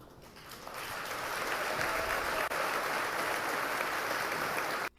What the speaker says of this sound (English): you saw them clap for him